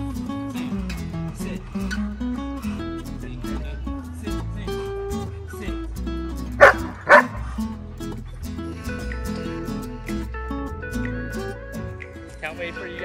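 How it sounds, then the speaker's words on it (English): An excited German Shepherd, about a year old, barks and yips in repeated bursts, with two loud barks standing out midway, under a steady background of music and occasional talk. "He gets so excited that he barks at them"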